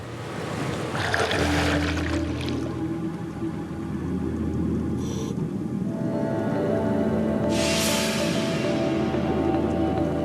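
A boat's engine drones at sea in French Polynesia with water washing against the hull and occasional splashes, steady and close throughout.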